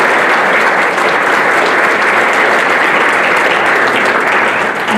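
Loud, dense applause from an event audience thanking the organizing team, a continuous wash of many hands clapping at an even level throughout.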